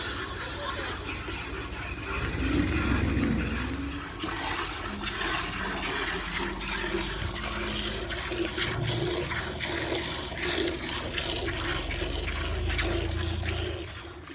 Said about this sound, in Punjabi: ਹੁਣ ਚੁਆਈ ਸਟਾਰਟ ਹੋਣ ਲੱਗੀ ਹੈ।